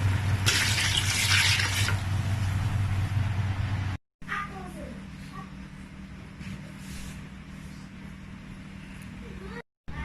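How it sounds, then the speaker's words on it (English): Water pours steadily into a cooking pot for bitter leaf soup with a loud rushing hiss, then the sound drops to a quieter simmer-like background after a brief cut. "now I'm going to add water, the water that I'm going to be using to cook this"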